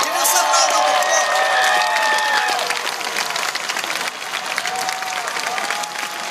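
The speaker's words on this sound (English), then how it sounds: "Give yourself a round of applause." A graduating class at a university commencement ceremony applauding, a dense, steady wash of clapping with some cheers and whoops mixed in, fading slightly toward the end.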